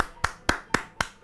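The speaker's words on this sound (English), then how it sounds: "Round of applause, everyone." Four slow, evenly spaced sharp hand claps, close and fairly quiet, each a crisp single smack with a short decay, sounding like one person clapping rather than a crowd.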